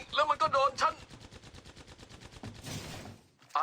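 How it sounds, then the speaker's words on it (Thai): Rapid automatic gunfire from Apex Legends Mobile, a dense rattling burst of shots with a brief pause and a second burst at the end, with a voice talking over the start. "มีการยิง"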